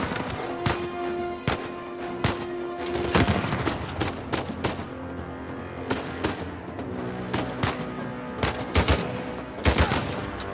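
Gunfire in the Uncharted 4 video game, with scattered single shots and short bursts cracking over a busy background of combat noise and a sustained tone, irregular and moderately loud.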